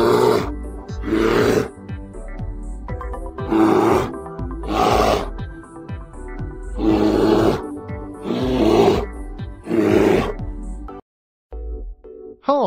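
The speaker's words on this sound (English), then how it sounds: "Bear." A bear roars repeatedly in deep, rough bursts, about seven loud guttural roars with short pauses between them, close and forceful with no talk.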